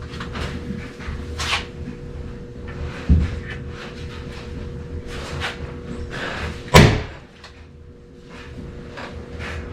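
A powder-actuated nail gun fires into a solid concrete basement foundation, a single sharp, loud bang near the end after two softer thumps, with faint handling noise between.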